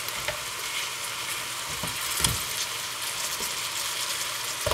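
Hassar fish frying in a pot for a curry, a steady close broadband sizzle with occasional soft stirring scrapes, no talking.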